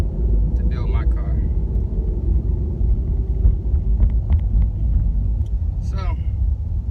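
Deep, steady exhaust rumble from a Ford Mustang GT 5.0 with a Corsa Xtreme catback and stock headers, idling close by with a few light revs, while a voice talks over it.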